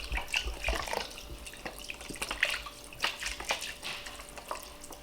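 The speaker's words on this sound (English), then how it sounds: "I'm adding the water to this" Water poured into a pot of pot roast broth, a splashy, bubbling stream with small gurgles and drips running steadily for several seconds, close by and alone.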